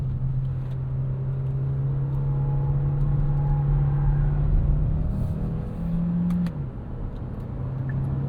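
A 2026 Kia Sportage Hybrid accelerates after a paddle downshift to a lower gear in city driving, its steady engine drone and road rumble loud and continuous from the cabin, with a brief pitch shift near the end.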